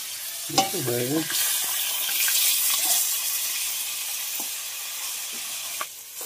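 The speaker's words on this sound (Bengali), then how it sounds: "মাছগুলো কিন্তু ভালোভাবে ভেজে নিয়েছি লাল লাল করে" Fish sizzling and frying in hot oil until reddish, a steady soft hiss throughout with occasional stirring clinks and a brief burst of tonal noise near the start.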